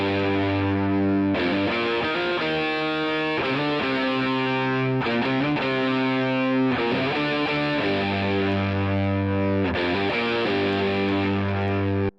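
A sustained distorted electric guitar line rings out with delay repeats trailing each note, steady and full, no voices.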